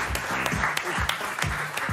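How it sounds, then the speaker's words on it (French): Short burst of audience clapping at a children's reading competition ceremony, scattered claps landing over a low voice in the room. "Je vous demande de les applaudir."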